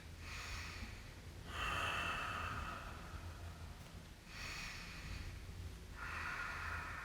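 Slow, deep breaths during a yoga neck and shoulder stretch, with four long airy inhales and exhales in an even rhythm, close and soft in a quiet room with no talking.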